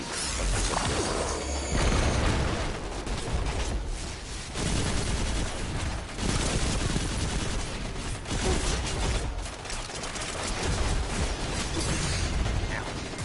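A Gatling gun firing in long, roaring bursts, a loud and nearly continuous rattle of rapid shots with brief dips between strings of fire.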